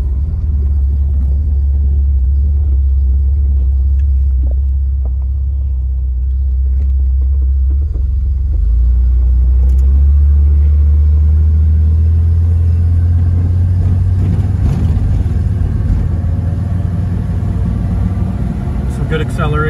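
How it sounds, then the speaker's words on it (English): 1962 Chevy Corvair Convertible accelerating uphill, a loud low engine rumble building steadily from inside the car and holding throughout. "So good acceleration. This is uphill too"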